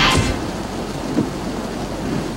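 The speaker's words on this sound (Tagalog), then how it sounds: "Mag-aalas 4 ng madaling araw nang bumuhos ang malalakas na ulan sa Quezon City." Heavy rain pours steadily in Quezon City before dawn during a storm, a dense continuous wash of downpour with a few louder surges throughout.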